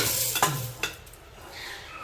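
A brief stir in a hot pan, followed by a soft, steady sizzle of curry leaves frying in a little oil at close range.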